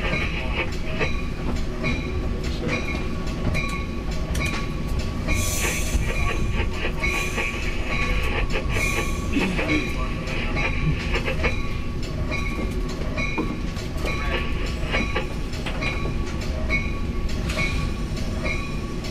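A Metra Milwaukee District commuter train rolls toward Chicago's Union Station over track under reconstruction, a loud continuous rumble with rattling cars, wheel clicks and occasional squeals throughout.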